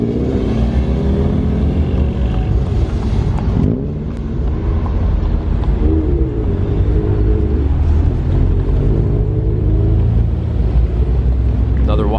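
Cars rolling into a Toyota MR2 meet produce a loud, close engine rumble with wind noise and passing revs, while a person talks over it.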